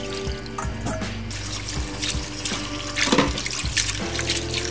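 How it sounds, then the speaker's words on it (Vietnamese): Young coconut being rinsed under running water in a sink, with a continuous splashing stream and irregular knocks and sloshes of handling, close by. "Em sẽ rửa dừa khoảng 10 lần nước cho nó sạch hết dầu dừa."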